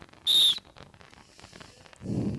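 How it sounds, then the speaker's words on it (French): A single sharp, shrill referee whistle blast rings out briefly to restart play after a timeout, followed by faint background chatter and a low rumble of crowd noise. "départ à mon coup de sifflet"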